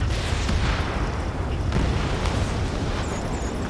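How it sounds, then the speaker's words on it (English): Dense, rumbling booms and bursts roll on continuously, gunfire and jet roar blending into a heavy, echoing wall of noise in Ace Combat 7. "gunfire and the roar of jets echoing through the streets"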